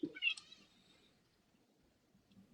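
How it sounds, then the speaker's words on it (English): A single short cat meow near the start, followed by quiet room noise. "Oh no, that was my cat."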